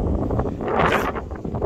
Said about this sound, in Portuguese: O vento aí, gente, vai fazer um barulhão.